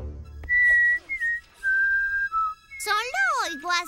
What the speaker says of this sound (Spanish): Solo oigo a Sasquatch silbando.